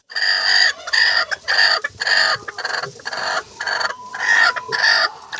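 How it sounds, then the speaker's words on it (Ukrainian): A broody bantam hen clucks loudly and close by, giving a steady series of repeated clucks and short calls with brief gaps, alone without voices. "Значить, це ще одна квочка."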